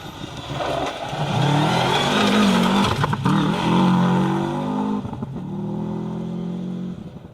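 Subaru Impreza rally car on a Nicky Grist Stages rally stage, its engine loud and close, with harmonic revving that rises and falls through gear changes as it passes, then a steadier drone fading slightly.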